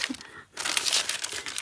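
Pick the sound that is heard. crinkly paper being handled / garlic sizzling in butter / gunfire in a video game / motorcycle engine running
crinkly paper being handled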